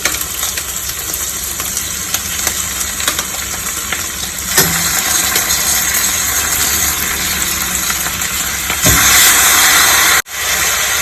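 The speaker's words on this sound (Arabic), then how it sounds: "هنزل بالفراخ بتاعتي تتشوح مع البصل والفلفل" Chicken pieces sautéing with onions and peppers in a pan give off a steady, loud sizzle and hiss, with a few brief clatters near the end.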